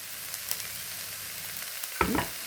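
Onion, carrot and green chili sauté in a pan for thoran, a quiet continuous sizzle with light crackles, then a brief scraping stir near the end, no talking.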